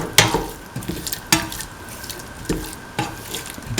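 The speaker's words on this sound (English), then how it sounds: "Thoroughly mix in the salt." Salt stirred into a rice dish with mint, cottage cheese and coconut milk: rhythmic scraping stir strokes about once a second, close and fairly loud, with soft wet clinks between them.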